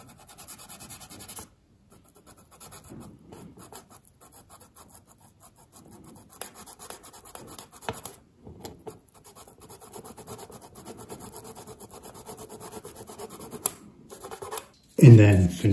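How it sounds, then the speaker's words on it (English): Fine sandpaper rasping against a small part for a 1/200 scale model of the battleship IJN Mikasa, producing soft, close scratchy strokes that run steadily through the clip, with brief gaps and a louder rustle near the end. "And then we can come in with some fine paper."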